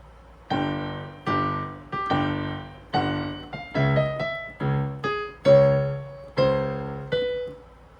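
A piano plays a melody of repeated chords, about a dozen distinct strikes each ringing and decaying, clear and close with no talking.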